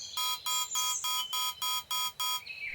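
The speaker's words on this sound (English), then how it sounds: "Beep. Scanning." Robot scanning beeps sound close and alone: seven evenly spaced electronic tones pulse in a steady rhythm, followed by a short falling tone.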